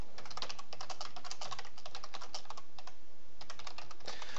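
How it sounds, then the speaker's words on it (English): Rapid typing on an insanely loud computer keyboard during Python programming, a dense run of crisp close key clicks in uneven bursts with brief pauses, heard alone without talk. "your keyboard's like insanely loud"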